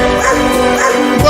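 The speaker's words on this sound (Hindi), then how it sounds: "ये दोनों कुत्ते तो मेरा पीछा छोड़ ही नहीं रहे हैं" Dogs bark and yip loudly during a cartoon chase, heard in a short, dense, noisy burst with a busy soundtrack layered beneath.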